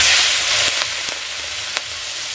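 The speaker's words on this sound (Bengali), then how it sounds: "তো এদিকে তো মা মোচাটা রান্না করছে" Banana flower (mocha) cooks in a pan at home with a bright, continuous sizzle and a few faint taps of a utensil. No voices.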